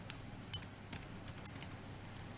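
Keys tapped on a computer keyboard while entering an instruction code in CX-Programmer PLC software, an irregular run of light clicks with a few louder strikes, close and alone.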